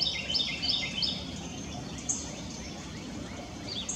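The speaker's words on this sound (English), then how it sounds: "Another visitor to my feeder is this pine warbler." A pine warbler calls near a backyard feeder, a few faint high chirps early on and again briefly later over a steady low outdoor hum.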